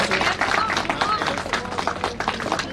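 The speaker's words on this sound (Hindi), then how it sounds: "जोरदार ताली" Clapping breaks out among an audience at a Rajasthan media and human rights award function, uneven claps mixed with voices and stage chatter throughout.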